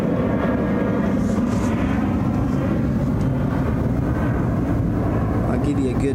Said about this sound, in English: sorry for the jet flying over